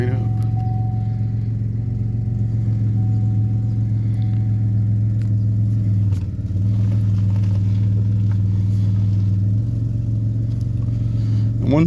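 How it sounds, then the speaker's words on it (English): A 2004 Chevy Impala LS with 222,000 miles idles steadily after starting, a loud, even, low engine drone close by with a brief dip partway through. "Starts right up."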